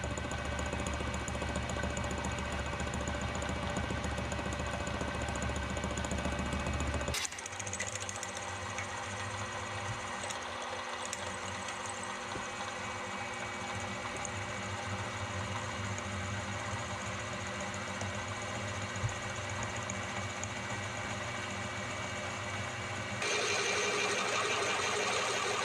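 A milling machine cuts a slot in a steel bar with a round end mill, a steady close motor hum with grinding cutter noise and a distinct change in pitch partway through, continuing for about 25 seconds.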